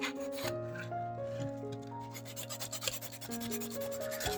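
Light rubbing and sanding on a diecast model truck being converted into a post-apocalyptic ice cream truck, faint quick scratchy strokes in uneven bursts beneath soft background music.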